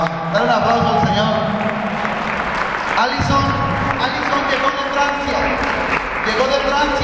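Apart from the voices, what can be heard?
church congregation applauding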